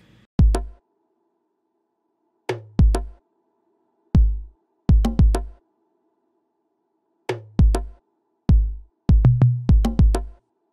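Programmed drums in an R&B-style beat, with punchy kicks and sharp snare and percussion hits in short bursts and flams, separated by gaps of near silence, loud and dry.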